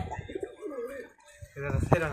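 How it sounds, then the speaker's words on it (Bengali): A pigeon coos softly in a short, low murmur, with people talking nearby toward the end. "নতুন কবুতর না এটা?"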